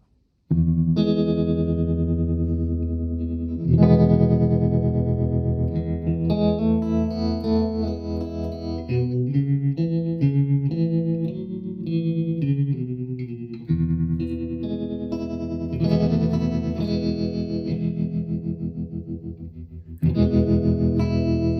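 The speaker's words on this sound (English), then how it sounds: "if you want it like as a washy ambient background tremolo kind of sound, that's still pretty fast" Electric guitar run through a Mojo Hand FX RVT pedal with its tremolo at the fastest speed, a rapid pulsing chop over sustained chords and single notes, loud and close with no talking.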